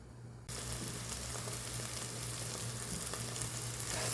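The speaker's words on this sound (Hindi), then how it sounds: "इस तरह से कीमे को बहुत ही अच्छे से भून लीजिए" Minced meat keema frying in a pan: a steady, close sizzle and crackle that starts abruptly and continues throughout, with a low hum underneath and no talking.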